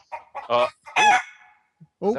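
A person vocally imitates a hen, giving several short, close clucking and squawking bursts with brief gaps between them.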